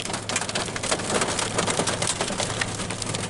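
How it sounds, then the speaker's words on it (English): Hail pelts a new truck and fills its bed, a dense, steady clatter of small icy impacts drumming on metal close by, with no voices. "Oh, hail."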